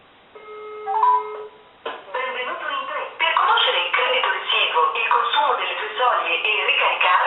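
An outgoing call rings on a Samsung Galaxy K Zoom phone with a brief burst of electronic ringing tones at the start. Close-up talking then takes over and continues to the end.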